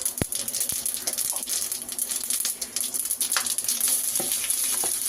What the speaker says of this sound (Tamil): பூண்டு வதக்கணும்